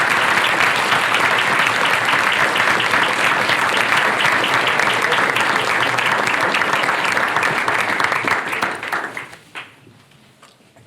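Audience applause welcoming a guest lecturer at an evening talk in Philadelphia, a dense, steady clapping from a full room that holds loud and even for about nine seconds before quickly thinning out and fading.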